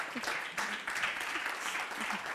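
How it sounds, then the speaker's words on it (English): An audience at a food systems and farmer organizations event claps for farmers, a short, moderately faint burst of applause with a voice briefly audible. "give a thunderous clap to the farmers"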